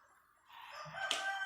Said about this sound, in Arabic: صياح الديك حاجه مليحه